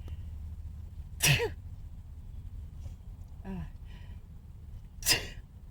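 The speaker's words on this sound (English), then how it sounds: "Gonna sneeze." A single sharp sneeze, then a softer breathy gasp, followed a few seconds later by a second loud sneeze, close by with no talking.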